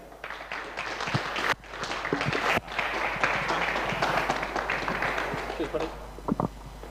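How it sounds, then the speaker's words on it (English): A crowd claps and applauds at a race awards ceremony, a dense, continuous patter of hands rising and falling over several seconds, with some voices mixed in. "a round of applause, please, for your third place man"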